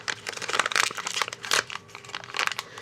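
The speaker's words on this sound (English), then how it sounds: "So you just tear open the pack." A foil-wrapped Instax Mini film pack torn open up close, a dense burst of crinkling and ripping foil with rustling that rises and falls across the whole moment.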